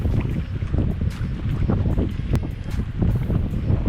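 Strong, steady wind gusting across the microphone, a low roaring rumble with buffeting bursts throughout, no voices.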